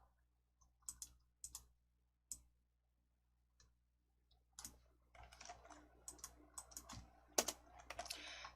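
Computer keyboard typing during Excel work, including Ctrl+Enter presses, as sparse isolated key clicks that turn into a faster run of close, quiet tapping toward the end.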